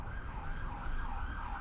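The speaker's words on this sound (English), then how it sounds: "Notice the sirens." A distant emergency vehicle siren wails, its tone rising and falling in slow sweeps over a low rumbling background of traffic noise, moderately faint and steady throughout.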